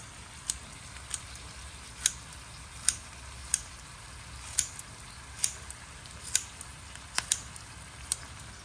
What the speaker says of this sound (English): I like to use my scissors and then just cut it